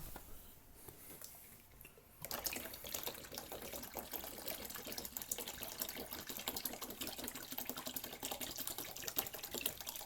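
Water gushes and splashes steadily into the tank of a Prego portable A/C unit after a quiet start, a continuous pouring rush heard up close.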